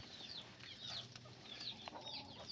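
Chickens clucking around a coop, with repeated short, chirpy calls over a steady rustling farmyard background, fairly close and moderately loud.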